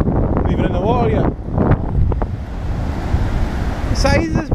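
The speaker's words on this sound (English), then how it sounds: "The waves are crashing." Waves crash on a cold northern coast with continuous churning surf and heavy wind rumble. Excited voices shout and call out over the water.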